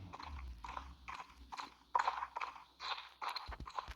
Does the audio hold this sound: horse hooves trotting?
yes